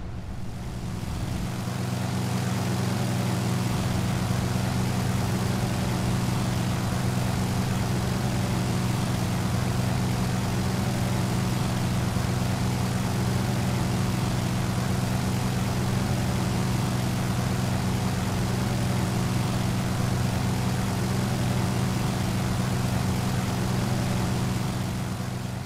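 Aircraft engine droning at high power during a climb in the flight simulator X-Plane 11, a loud, constant propeller hum with a steady low tone that never lets up.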